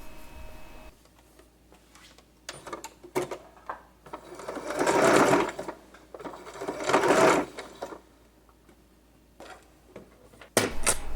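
A sewing machine stitches doll shoe spat pieces together, with short bursts of whirring needle runs, two longer sustained runs, and light clicks and handling noises in between.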